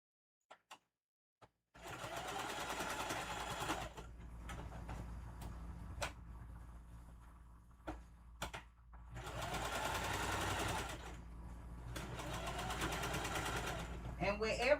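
A sewing machine stitching a puffy Halloween tote bag, sewing around a skirt piece with zigzag backstitching on curves; several close bursts of rapid mechanical whirring, each lasting a few seconds, separated by quiet pauses and small clicks.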